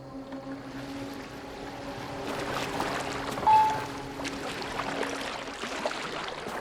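A boat sails on water in Assassin's Creed Valhalla, heard as a soft steady wash of water and hull movement with a low hum, swelling briefly near the middle, with no talk.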